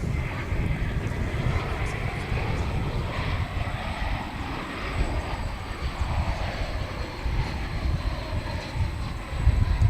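An airliner flies past at DFW International Airport, a broad, steady engine roar that holds for the whole stretch, with faint voices in the background.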